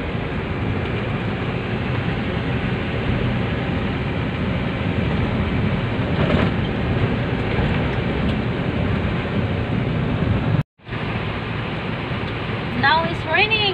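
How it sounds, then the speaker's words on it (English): Heavy rain pours steadily during a dark afternoon thunderstorm in the Philippines on the way to the mountain, a dense constant hiss with low rumbling and a brief cut-out near the end, where faint voices appear. "Now it's raining."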